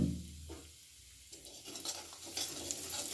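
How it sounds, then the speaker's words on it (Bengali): Asafoetida stirred into a spoonful of melted ghee, a short burst of sizzling with scraping strokes of a spoon in the pan, crackling brightening toward the end, close and alone. "কয়েক সেকেন্ড একটু হিংটাকে নেড়ে নেব"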